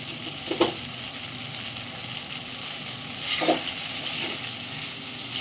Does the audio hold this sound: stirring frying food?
yes